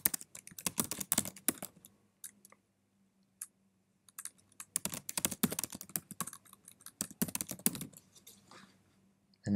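Fingers type an admin password and email on a computer keyboard in close, quiet bursts of rapid key clicks separated by short silent pauses.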